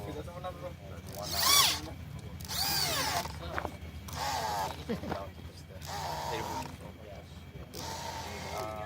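A power drill runs in a few short bursts, its motor whining up and down while tightening, alternating with people talking between and over the bursts.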